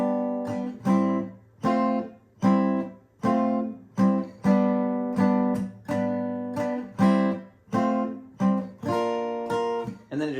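Guitar chords from the chorus of a song strummed slowly, one at a time, each ringing briefly before the next in a steady unhurried rhythm, close and clear with no talking.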